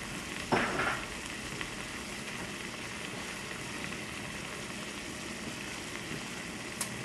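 Beef and wine cooking down in a pot, a quiet steady sizzle and simmer with a brief clatter near the start, no talk.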